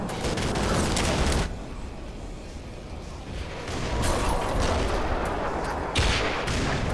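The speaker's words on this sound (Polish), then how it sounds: "bo czołg do mnie zaczął strzelać" Loud bursts of cannon-like tank fire from a battle in the video game Black Mesa: Source, with heavy booming blasts and rumbling explosions continuing throughout, no talking.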